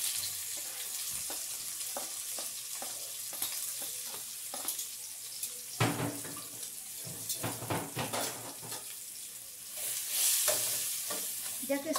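Chopped onions fry in a skillet with a little oil as they are stirred, a steady close sizzle with scraping and clattering utensil strokes throughout and a brief hiss swelling near the end.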